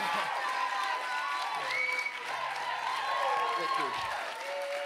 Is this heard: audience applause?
yes